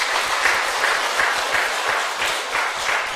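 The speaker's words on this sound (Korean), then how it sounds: "하나님께 영광의 박수 올려드리십시다" A church congregation breaks into loud, sustained applause, a dense wash of many hands clapping together rather than any single clap, with no talk over it.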